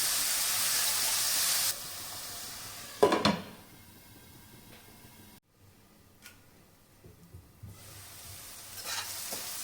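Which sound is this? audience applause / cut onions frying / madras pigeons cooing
cut onions frying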